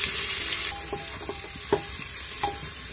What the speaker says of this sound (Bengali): এখন তেলের ভিতরে দিয়ে দেব পেঁয়াজ কুচি।